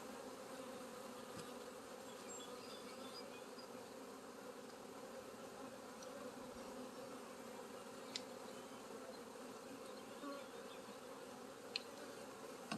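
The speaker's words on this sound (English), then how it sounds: "I'm gonna shake in those bees into that hole" Honey bees shaken into a hive keep up a faint, continuous, even buzzing drone with a few brief ticks, and no voices.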